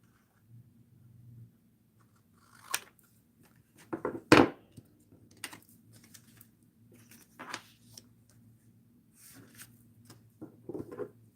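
Scissors cut paper for a bullet journal page, giving a few short crisp snips and rustles spaced through a quiet stretch, one sharper cut standing out midway, with no talking.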